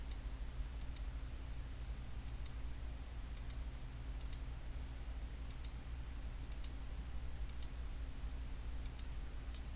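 Mouse clicks while a mask is drawn with the pen tool in video editing software, faint paired clicks repeating roughly every second over a steady low hum, no talking.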